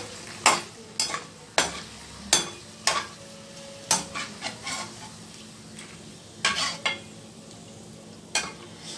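Yogurt chillies fry in hot oil in a kadai, a soft low sizzle broken by repeated scraping stirs of a spoon against the pan, close and moderately quiet.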